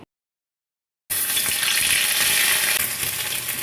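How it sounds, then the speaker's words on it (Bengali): After a second of silence, ginger paste drops into hot white oil in a wok and bursts into a loud, bright, continuous sizzle that holds steady to the end. "তেলটা গরম হয়ে গেছে আমি এক চামচ আদা বাটা দিয়ে দিচ্ছি"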